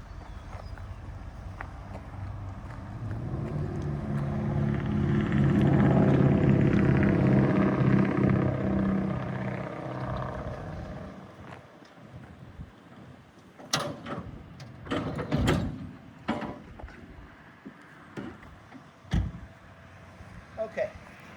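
A 24-foot 10k GVWR trailer deck rolls back along its undercarriage with a long, swelling mechanical rumble, followed by a series of sharp clanks and knocks as it settles near the stop.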